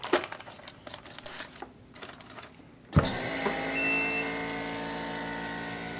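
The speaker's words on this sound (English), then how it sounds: "I'm gonna put it in a chamber sealer." A chamber vacuum sealer seals a bag of marinated chicken: a few seconds of crinkling plastic and handling, then a sudden clunk as the machine starts into a steady mechanical hum and whir, close and even.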